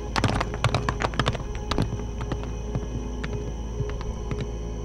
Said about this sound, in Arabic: تركب الحصان